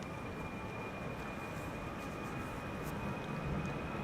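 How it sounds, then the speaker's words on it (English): An EasyJet Airbus A319 departs from Amsterdam Schiphol toward London Stansted, a steady, fairly faint jet engine rumble with a thin high whine running evenly throughout, no voices. "EasyJet to London Stansted, the A319."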